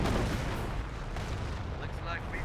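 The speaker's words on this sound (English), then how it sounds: "One of those squads just got exploded by the sector artillery." Artillery explosions in the World War II strategy game Company of Heroes, a dense rolling roar of distant blasts and battle noise with no clear separate bangs, loud and continuous throughout.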